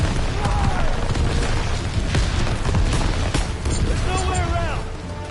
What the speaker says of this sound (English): Get down! Artillery run!